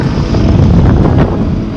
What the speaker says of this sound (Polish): Zbiera się wiaterek, ale cały dzień dziś był wiatr.